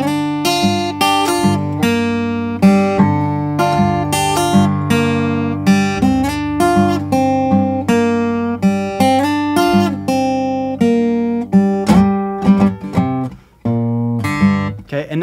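An electric guitar plays blues call phrases, a steady picked riff with repeated plucked notes and ringing bass, loud and alone.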